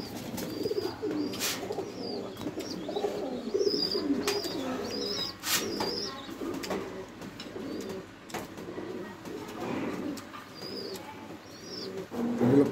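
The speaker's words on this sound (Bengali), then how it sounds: "আমি আরও কিছু কবুতর দেখাই" Pigeons in a loft in Rajshahi coo softly and repeatedly close by, with soft murmuring calls overlapping, occasional sharper chirps and a faint brief flutter of wings, and almost no talking.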